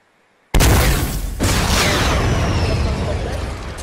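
Sudden loud blast in Fortnite after a moment of quiet, a sharp boom followed by a second impact and a long roaring, crackling tail of debris.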